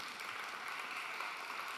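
A church congregation gathered for a Wednesday afternoon worship service claps in steady, dense applause, many hands together filling the room evenly from start to finish.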